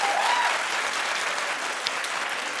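A live audience claps in a steady burst of applause that fills the whole moment, dense and even, then thins slightly toward the end.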